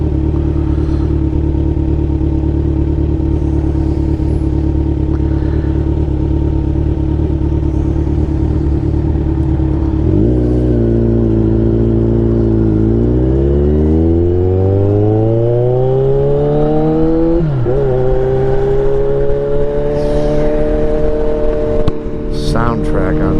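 A loud 2016 Kawasaki Ninja 1000 sport motorcycle engine idles, then revs up and down repeatedly with rising and falling pitch, close by, with a voice speaking briefly at times.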